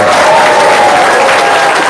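An indoor audience at a motivational seminar breaks into loud, dense applause, a steady wash of clapping hands filling the room.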